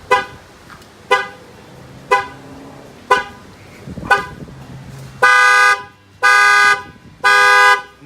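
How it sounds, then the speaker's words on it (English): The car alarm of a 2018 GMC Sierra Denali, set off by a shock sensor, sounds: several short evenly spaced chirps, then three long loud blaring horn tones, close by with no talking. "It gives you the countdown, and then it's going to fire off."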